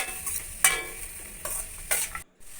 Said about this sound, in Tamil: இதில் நறுக்கின பீன்ஸ், முட்டைக்கோஸ், கொஞ்சம் துருவின கேரட் இதெல்லாம் சேர்த்து நல்லா வதக்கிக்கலாம்